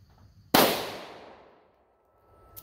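A single close-range .357 Magnum revolver shot firing Liberty Civil Defense 50-grain ammunition, a sharp loud crack followed by a long decaying echo, with no talk.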